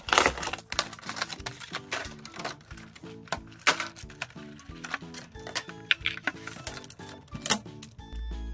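Pokémon GO card album set packaging is unwrapped close by, with a steady run of crisp crinkling, tearing and clicking sounds from handled plastic and cardboard, and no voices.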